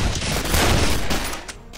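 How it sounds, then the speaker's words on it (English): Gunfire in Vampire: The Masquerade – Bloodlines, a dense, continuous fusillade of loud shots with a shotgun among the weapons, filling the whole moment with no talk over it. "Who is firing at me?"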